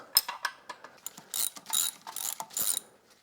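A ratchet clicks rapidly in short bursts as it backs out bolts holding the powerhead on a Mercury 135 HP outboard, close and crisp with brief pauses between strokes and no talking.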